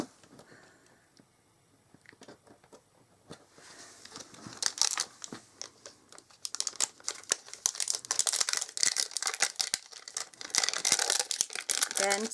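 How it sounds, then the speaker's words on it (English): Paper crinkling, tearing and rustling while a Halloween fold card with spooky cat designs is stamped and assembled, starting sparse and quiet, then becoming busy and dense with close crackles and brushing scrapes. "sorry about the rustling"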